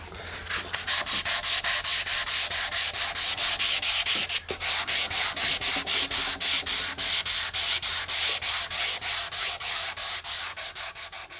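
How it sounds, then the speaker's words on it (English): 240 grit sandpaper is rubbed by hand over a stained guitar body in quick, regular back-and-forth strokes. The rhythmic scratchy swishes are close and continue steadily, with only a brief pause partway through. "I'm done sanding with the 240 grit sandpaper"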